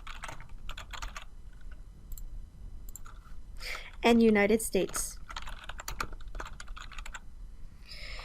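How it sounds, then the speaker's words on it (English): Bursts of quick keyboard typing, light clicks in irregular clusters, with a short spoken phrase partway through. "You may have noticed that while I was typing, it auto-suggested some things for me."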